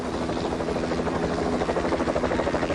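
A helicopter's steady rotor thump and engine drone, loud and continuous throughout, with no voices, from the 1975 evacuation of Saigon.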